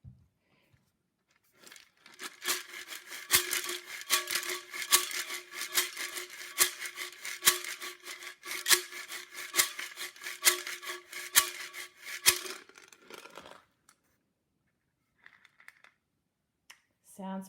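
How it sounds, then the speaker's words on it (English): Homemade shaker made from a glass jar filled with dry rice, shaken close up in a quick, steady rattling burst for about ten seconds, then stopping, followed by near silence with a little faint background noise. "This is the rice in the glass jar."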